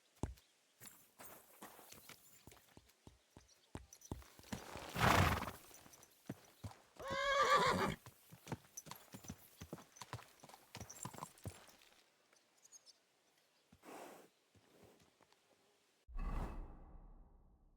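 Horse hooves clip-clop in a steady walking rhythm in Kingdom Come Deliverance II, broken by two loud whinnies and a closing snort, with quiet gaps between footfalls.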